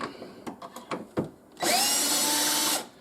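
A Lee Deluxe Quick Trim cutting a brass cartridge case, driven by a drill through its power adapter: a few light clicks and taps, then a loud steady whirring cut of about a second that stops abruptly.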